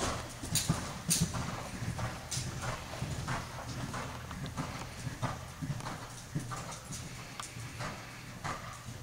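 A horse canters nearby, its hooves clip-clopping in a steady rolling rhythm, moderately loud, with occasional louder footfalls and no talking.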